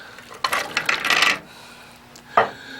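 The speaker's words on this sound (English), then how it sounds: "And in go the potatoes." Cut potatoes dropped into a soup pot, a quick cluster of knocking, clattering thuds lasting about a second, then a single louder splash-like knock after a pause, heard close and alone.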